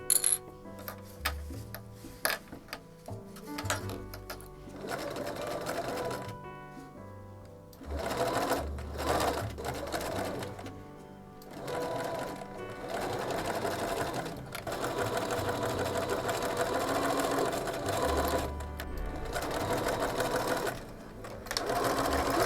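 A sewing machine sews a rain cape with long stretches of rapid stitching, broken by brief pauses and faint clicks and handling noises, fairly close and moderately quiet.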